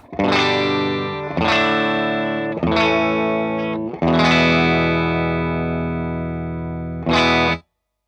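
Heavily distorted electric guitar chords through a Hughes & Kettner amp, mic'd with a ribbon mic, ring out loud and close, struck a few times with long sustains before a final short hit cuts off.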